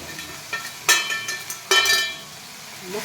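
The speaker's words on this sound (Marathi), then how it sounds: "आपण छान परतून घ्यायचा" Dabeli masala ingredients are sautéed in a pan. A utensil gives a couple of bright metallic clinks and some soft stirring scrapes over a faint background, with no talking.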